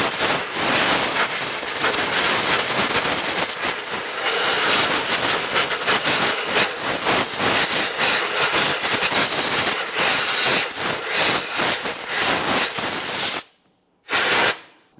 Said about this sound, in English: I'm going to clean this using compressed air, paying close attention around all of my coolant hoses.